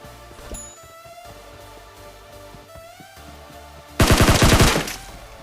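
Gunfire crackles in a battle royale video game as a player shoots at a bot, with faint scattered shots early and a loud rapid automatic burst near the end.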